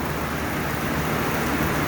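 Steady rain falls on a garden where a greenhouse kit is being put up, a constant close hiss with a low rumble beneath and no voices.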